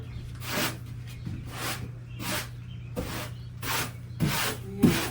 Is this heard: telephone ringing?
no